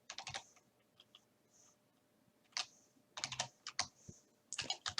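Close-up typing on a computer keyboard: irregular bursts of quick clicking keystrokes separated by short pauses, with no talking.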